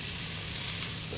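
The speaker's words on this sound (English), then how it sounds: "I'm going to sear this a bit more." A burger patty sears with a loud, dense, unbroken sizzle, close up and heard alone for about a second.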